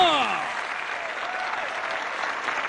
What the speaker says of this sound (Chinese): 掌声送给天山的豹